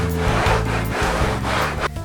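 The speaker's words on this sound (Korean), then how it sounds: "유진경 선생이 나무판에 사포질을 하고 있다." Sandpaper is rubbed back and forth over a wooden board, the top of a traditional baduk board, in a woodworking shop in Gimpo. The scratchy strokes repeat at a steady rhythm, loud and close, with no talk.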